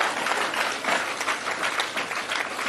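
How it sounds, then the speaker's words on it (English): A political gathering in South Africa breaks into a steady, dense round of applause for party comrades, many hands clapping together at an even loudness throughout, with no voices standing out. "I want us to give these comrades a good round of applause."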